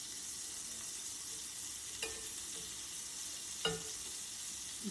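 Halved pav buns frying on medium flame in melted butter in a pan, giving a soft steady sizzle with a couple of faint clinks of a utensil.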